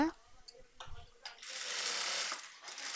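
A sewing machine stitches a blouse in quick rattling runs, stopping and starting after a few soft clicks, with the longest run near the end, heard close up.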